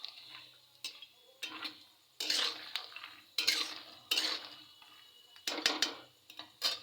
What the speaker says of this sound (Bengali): মানে আমার বাদাম ভাজা শুরু হয়ে গেছে